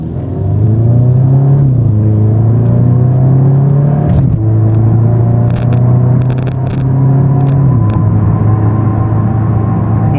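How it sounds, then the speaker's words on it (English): A 2018 Audi S3 pulls away hard, its exhaust droning loud and close through rising revs, with quick gear changes dropping the pitch and sharp crackling burbles on the shifts. "we get some really nice burbles out of the exhaust"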